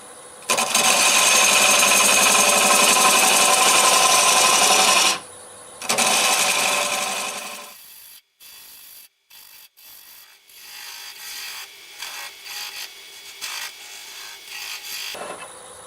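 A 3/8 bowl gouge cuts juniper end grain on a wood lathe turning at around 600 RPM, a loud, steady hissing cut that breaks off briefly, resumes, then fades, followed by quieter intermittent scraping touches.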